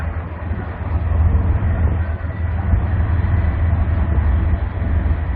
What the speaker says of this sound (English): Don't know how long that train is,